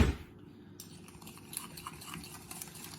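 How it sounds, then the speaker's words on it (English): A metal whisk clinking and scraping quickly against a bowl while beating a vinegar marinade for pork chops, a steady, fairly faint rhythmic rattle after an opening knock. "I'm going to whisk this up"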